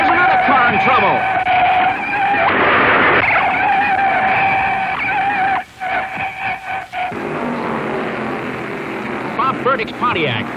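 Classic stock race cars roar and skid while spinning in a crash in the first turn, a Pontiac among them, with loud engine noise, squealing tires and a brief choppy break under continuous announcer-style talk.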